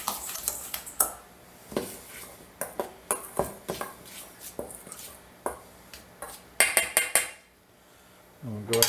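A utensil clinks and taps against bowls while Old Bay seasoning is mixed into cornflake crumbs and lump crab salad, giving irregular light clinks and scrapes close by.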